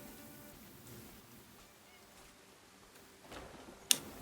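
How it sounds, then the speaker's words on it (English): Steady rain falling in the video game Crimson Desert, a soft continuous hiss of drops on puddled ground, faint throughout with a couple of sharper louder bursts near the end. "the rain effects looks absolutely amazing"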